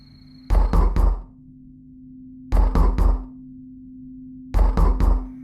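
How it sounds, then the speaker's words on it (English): Three sharp raps on a door in the horror RPG OMORI repeat three times with pauses between, loud and close against a low steady hum. "You hear a knock on the door."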